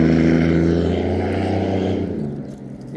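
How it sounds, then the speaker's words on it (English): A loud engine passes close by on a street in a town's West End, a strong droning rumble with steady harmonics that swells and then fades away over about three seconds, with no talking. "Your car sounds ugly,"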